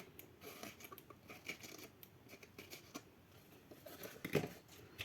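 Scissors snip through paper for a handmade scrapbook album, a string of quick, faint crisp cuts and rustles at irregular intervals, with one louder rustle near the end.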